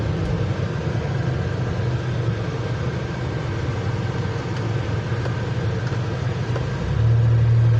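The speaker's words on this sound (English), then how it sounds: "Stopped in the middle of the road, and multiple cars behind them creating traffic." Traffic stopped on a city street in Deep Ellum: a continuous low rumble of idling cars and engines that swells louder near the end, with no voices over it.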